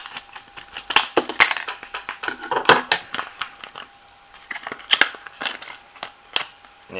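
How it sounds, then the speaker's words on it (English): Scissors snip and crunch through packaging while opening a knife trade package, giving a run of sharp, close crackling cuts in irregular bursts with brief pauses between them. "Let's go with the scissors again"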